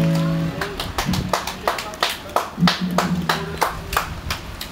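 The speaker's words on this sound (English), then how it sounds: "People clapping." A small group claps together after a patriotic song ends, a burst of loose overlapping applause with people talking and calling out over it.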